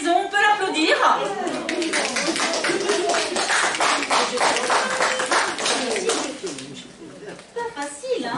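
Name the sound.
audience applauding a child at a Christmas party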